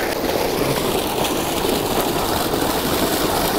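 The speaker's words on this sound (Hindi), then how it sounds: "देखिए भाई जुनेद ट्रैक्टर पूरा चलाना सीख गया है" A tractor engine runs continuously with a rough, steady rumble and no breaks, loud and close to the listener.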